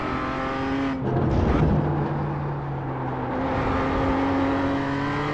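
Engine of a BMW M2 CSR race car in the iRacing sim at Laguna Seca, a steady loud drone that dips briefly under braking, then climbs again as the throttle reopens, with no talk.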